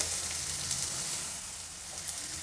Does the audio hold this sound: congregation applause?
no